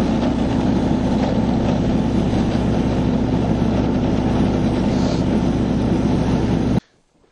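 A Husky snowmobile engine runs at full throttle on a bog in near-freezing weather, a loud, close, unbroken roar that cuts off abruptly at the end.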